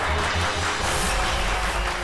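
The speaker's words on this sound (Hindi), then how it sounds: "तालियां।" Applause fills the whole short stretch as a steady, loud wash of clapping with no voices over it, in a scene announcing that a son is taking over his father's business.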